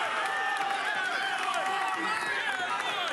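A wrestling crowd fills the PPL Center in Allentown with a continuous murmur of voices and scattered cheers, heard at a distance and fairly quiet under an ongoing hum of many people.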